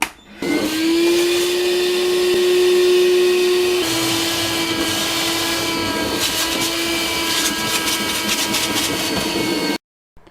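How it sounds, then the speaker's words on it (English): A vacuum runs continuously, close and loud, with a steady motor whine that shifts pitch as it sucks up standing water from the bottom of a Bosch dishwasher, then cuts off abruptly. "I'm going to vacuum up the water."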